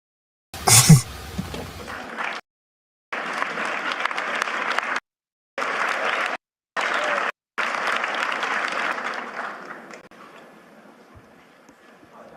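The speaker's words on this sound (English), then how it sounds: "That was not a large applause." Audience applause breaks out in several separate bursts of clapping, each several seconds long, with short silences between them. The last burst fades out gradually.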